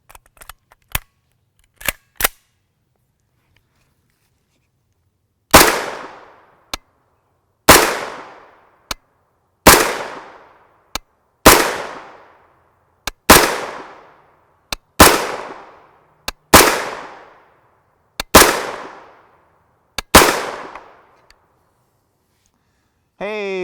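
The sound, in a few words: gunshots from CMMG 300 series 9mm carbine, ZQI steel-case ammo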